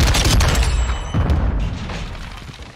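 A Semtex grenade goes off in Modern Warfare 2, giving a loud, deep, rumbling boom that rolls on and slowly fades over a couple of seconds.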